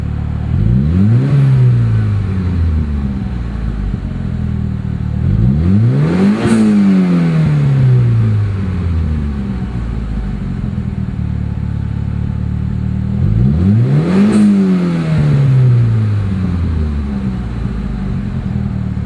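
A Mitsubishi DSM car engine runs steadily and revs up sharply three times, each rise climbing and then falling back toward a loud, rough idle, heard close with no voices.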